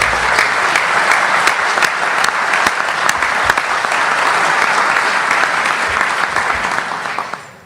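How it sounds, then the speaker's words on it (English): Enthusiastic applause from an audience at a convention simulation event fills the room, with dense clapping and a few sharp individual claps standing out, steady until it cuts off abruptly. "a big round of applause"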